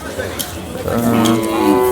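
A cow moos loudly and close by at a bull and cattle market in Sangola, one long drawn-out low call rising in strength, with faint voices and market noise around it.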